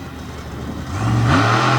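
A Chevrolet monster truck on an older-style Patrick chassis revving hard during a freestyle sky wheelie at a Lima, Ohio show, the loud engine roar climbing sharply in pitch about halfway through and holding high, with no talk.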